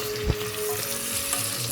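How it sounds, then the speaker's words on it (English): Sliced ingredients fry in red palm oil for egusi soup, giving a close, dense, continuous sizzle with a short stirring knock near the start; nobody speaks. "it's red oil that I'm using to fry this now"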